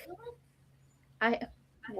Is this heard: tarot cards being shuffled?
no